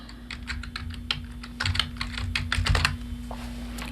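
Typing on a computer keyboard, a quick run of close, light key clicks at a steady pace over a low electrical hum, with no talking.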